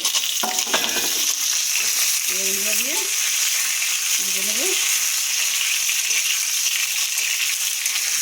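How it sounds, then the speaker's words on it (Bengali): Onion, potato and tender young eggplant fry with black cumin in a pan, giving a steady, close sizzle. Two short rising squeaky chirps cut in partway through. "পেঁয়াজ আলু বেগুনগুলো প্রায় ভাজা হয়ে গেছে"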